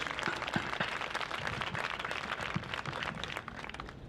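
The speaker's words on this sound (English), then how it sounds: "Give yourselves a round of applause." Applause at a high school National Honor Society induction ceremony, a fairly faint, distant patter of clapping from the assembled students and families that continues evenly throughout.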